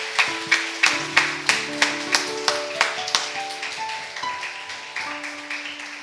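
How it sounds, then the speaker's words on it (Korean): A church congregation claps in a steady, evenly spaced rhythm of sharp beats, about four per second, over sustained organ or keyboard notes, with the claps gradually loosening and softening. "박수 한번 주시기 바랍니다"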